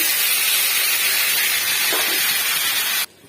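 A paste of ground poppy seeds and cashews hits hot oil in a pan and sizzles with a loud, steady hiss that cuts off abruptly near the end.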